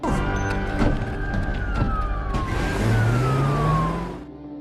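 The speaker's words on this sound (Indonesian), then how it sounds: "terdengar suara sirene polisi" A police siren wails with a long falling tone, over a low rumbling engine and traffic noise, loud and close.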